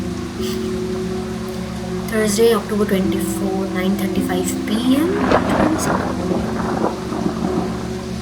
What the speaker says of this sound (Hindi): भाई तगड़ी बारिश आ रही है यार